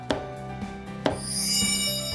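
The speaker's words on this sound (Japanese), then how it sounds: "スイカ切り包丁を使い一口大に切り分ければ" A few sharp chops of a watermelon knife cutting Tosa-style kokera sushi into bite-size pieces land on a cutting board, spaced about a second apart, with a faint clink and a soft hum in between.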